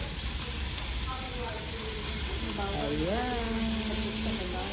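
Salmon sizzles in a pan while it cooks for a home lunch, giving a constant frying hiss at moderate loudness, with a voice speaking briefly over it.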